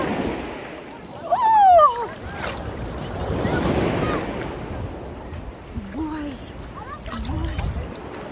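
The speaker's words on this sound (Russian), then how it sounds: "Волна, волна." Mediterranean Sea waves wash up on a beach in Türkiye, with a rolling surge and gusts of wind on the microphone, while people exclaim and talk close by.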